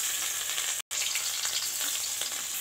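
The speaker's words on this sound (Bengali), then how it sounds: "মাছগুলোকে ভেজে নিতে হবে।" Fish seasoned with salt, chilli powder and turmeric fry in hot oil in a pan, a loud, close, steady sizzle broken by a brief silent cut near the start.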